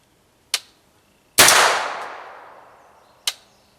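A suppressed BCI Dagger pistol fires subsonic ammunition: one loud shot whose sharp crack rings out and decays over about a second, framed by two shorter, fainter impulsive clicks before and after, with no voices.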